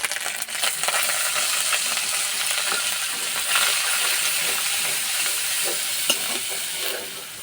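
Ground ginger and tomato paste sizzle in hot oil with cardamom, cinnamon and bay leaf, a steady close frying hiss broken by occasional stirring scrapes and clinks.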